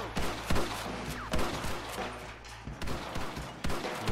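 Gunfire in the Red Dead Redemption video game: repeated sharp shots crack in uneven bursts over about four seconds against a steady background, some close and loud.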